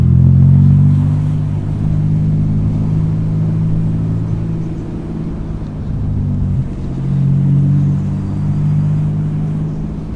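A 2013 Morgan Roadster Sport with a big engine rumbles deeply up close, its note swelling and easing as it revs, dipping briefly midway before building again, with no talking over it.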